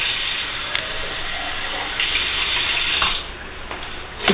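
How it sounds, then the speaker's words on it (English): Tap water running steadily into a pot while Mexican meatball soup is being made, a close, continuous splashing stream with small bursts near the end and no talk. "I think I'm going to have to add a little tiny bit more water"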